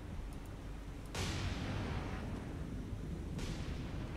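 Naval 5-inch guns firing in War on the Sea: two sharp broadband blasts a couple of seconds apart, each with a rolling low rumble decaying under steady background battle noise, no talk.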